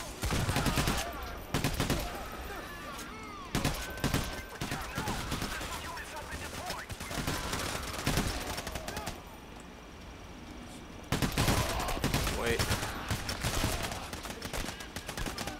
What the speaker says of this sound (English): someone's shooting at me from